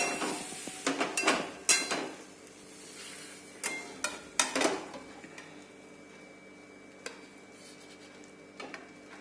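Fried okra is scooped from a pan onto a plate with a series of metallic scrapes and clinks, clustered early and then sparse, over a quiet background.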